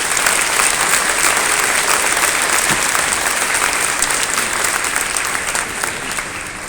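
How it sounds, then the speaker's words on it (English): A large audience applauds steadily for an event host, with dense continuous clapping that stays loud and even throughout before easing slightly near the end. "So let's give a round of applause to Rock Ridge."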